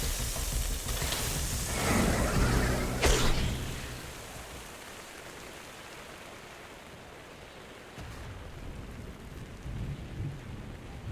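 Rain and thunder in Minecraft Story Mode: a heavy rumbling thunderclap over steady pouring rain, fading to a constant rain hiss with a softer rumble later.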